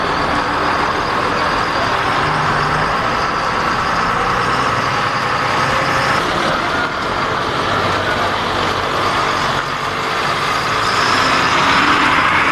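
Chinese-made Trans Academia buses arrive at the border town of Lufu in Kongo Central, DR Congo, with a continuous broad rumble of heavy engines and road noise, steady and fairly loud for the whole stretch.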